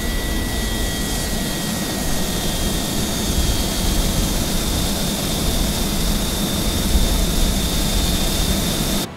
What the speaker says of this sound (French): Les moteurs s'arrêtent.